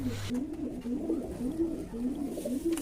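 Pigeons in a loft give a steady run of low, rolling coos close by, repeating every half second or so, with faint rustling behind them.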